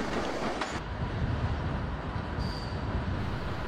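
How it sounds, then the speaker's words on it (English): Electric locomotive 86405 arrives at London Euston in the 1980s hauling Mark III coaches, a loud, close, steady rolling roar of wheels on rail with a faint squeal. "86405 arrives with a train from the north, comprising mainly Mark III coaches"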